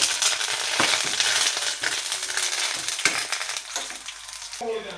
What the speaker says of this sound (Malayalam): വേപ്പില ഇട്ട് കൊടുക്കാം കേട്ടോ.